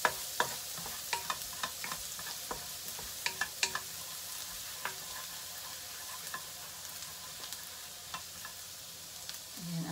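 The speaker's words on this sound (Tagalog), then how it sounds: "Gigisa na natin ang bawang, sibuyas." Garlic and onion sautéing in oil for palabok, with a continuous low sizzle broken by frequent sharp clicks and scrapes of a utensil stirring against the pan; no one speaks.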